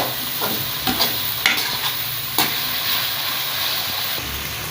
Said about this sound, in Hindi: वाह, बिल्कुल कीमा जो है अच्छी तरह फ्राई हो चुका है।